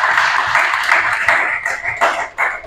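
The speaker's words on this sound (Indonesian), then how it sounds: "Tepuk tangan untuk para ibunda." A seminar audience applauds the mothers with loud, close clapping that swells and dips in uneven bursts, briefly thinning before picking up again near the end.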